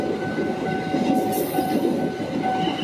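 A Majapahit passenger train in Indonesia rumbles past close by, with a continuous clattering roar of wheels on rails and a faint whistling tone.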